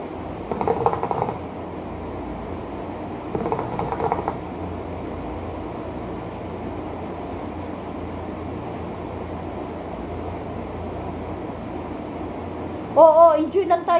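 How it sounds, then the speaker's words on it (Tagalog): A noisy air conditioner runs in a room with a steady, droning mechanical hum throughout, while voices talk briefly over it at a few points. "Aircon na to. Maingay."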